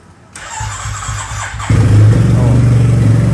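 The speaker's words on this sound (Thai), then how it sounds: "เดี๋ยวมาฟังเสียงเครื่องยนต์กับท่อเสียดู" A Yamaha TMAX 560 TechMax scooter from 2020 with an Akrapovic exhaust cranks briefly, then fires and settles into a loud, steady idle with a deep, throbbing exhaust note close by.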